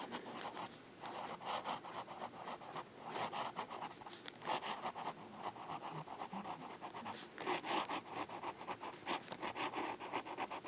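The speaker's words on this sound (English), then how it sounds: "so we'll get to writing." A TWSBI Classic fountain pen nib scratching across paper in quick faint strokes, a soft continuous rustle with rhythmic bursts of writing, close up and quiet with no talking.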